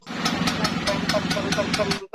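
A new Vespa scooter assembled in Taiwan idles with a Japanese-style engine, producing a steady, close putter with regular pulsing beats about four times a second before it cuts off abruptly near the end.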